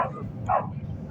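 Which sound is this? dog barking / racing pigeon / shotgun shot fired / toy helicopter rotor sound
dog barking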